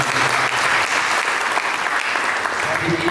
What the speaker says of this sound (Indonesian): mari kita berikan tepuk tangan.